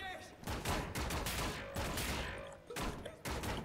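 Rapid bursts of gunfire crack out repeatedly in quick succession, loud and close, with a couple of brief gaps between volleys, in the video game Wolfenstein: The New Order.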